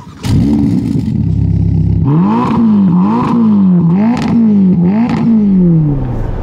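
Ferrari Roma Spider 620 hp convertible GT driving on the road, engine note rising and falling through several quick revs and gear changes, loud and close with no talk.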